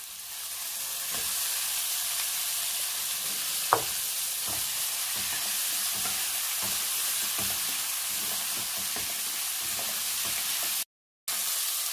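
Onions and brinjal sizzle steadily in a pan while sambar is being made, a loud continuous frying hiss with scattered crackles and occasional stirring knocks, broken by a brief dropout near the end.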